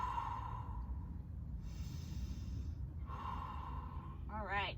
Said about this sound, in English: Deep breath in, deep breath out.